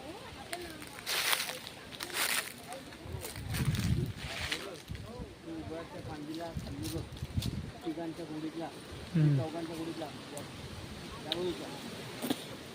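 Gusty wind roars and buffets the microphone in uneven surges during the first monsoon rain in a Konkan village near Dapoli, while people talk intermittently nearby.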